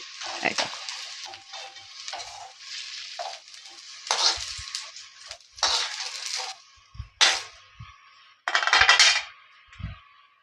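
Bitter gourd fries in hot mustard oil in a pan, heard as short, uneven bursts of sizzling with quiet gaps between them and a few light clinks of a utensil against the pan.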